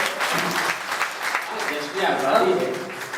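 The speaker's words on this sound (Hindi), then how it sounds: "एक मरतबा ज़रा सा ताली बजा के मुझे इजाज़त दे दें।" Audience clapping at a mushaira, a brief burst of crowd applause with voices mixed in.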